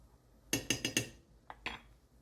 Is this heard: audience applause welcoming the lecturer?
no